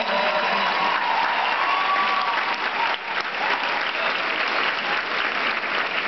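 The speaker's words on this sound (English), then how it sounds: "Please give the people I mentioned a round of applause" Sustained applause from a large graduation audience at a Rutgers Newark commencement ceremony, a steady dense wash of clapping filling the hall, loud and continuous with a brief dip midway.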